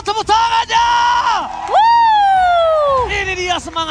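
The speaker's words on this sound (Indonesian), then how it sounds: "mana tepuk tangannya?" A loud arena crowd at an esports grand final, ONIC versus AP Bren at Taman Ismail Marzuki, erupts in rising whoops and sustained cheering, with long tonal yells swelling and falling over a dense roar.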